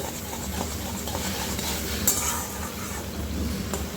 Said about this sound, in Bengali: আর আমি এইভাবে এটাকে একটু নাড়াচাড়া করতে থাকছি